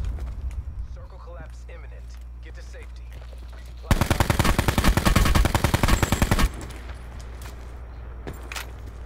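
Rapid automatic gunfire from Call of Duty: Blackout blasts out in a loud sustained burst lasting a few seconds, with quieter ambient game sounds and occasional talk before and after.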